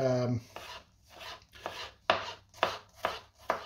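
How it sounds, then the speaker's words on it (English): A knife chops through an onion finely on a board, giving a steady rhythm of crisp, close thuds roughly twice a second, with no talk. "I usually just fold that over so you can chop it"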